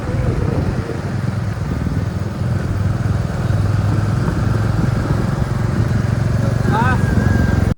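Motorcycle engines running steadily as bikes set off from a monastery area in Nepal, a continuous near rumble with voices talking over it and a brief higher tone near the end.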